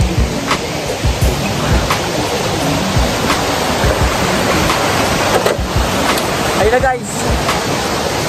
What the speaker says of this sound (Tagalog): Guys, tanaw na natin yung falls.